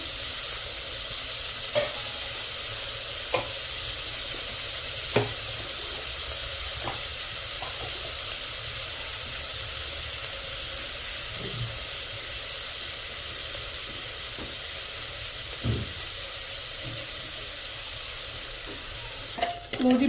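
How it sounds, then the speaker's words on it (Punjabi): Chopped onions fry in a pan with a steady, close hiss and sizzle, punctuated every few seconds by sharp scrapes and taps of a spatula stirring them; no one speaks. "ਪਿਆਜ਼ ਨੂੰ ਆਪਾਂ ਚੰਗੀ ਤਰ੍ਹਾਂ ਭੁੰਨਾਂਗੇ"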